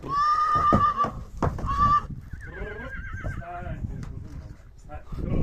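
A mare whinnies loudly and close by, a high quavering neigh that rises and falls, followed by a second shorter neigh with people talking and background noise.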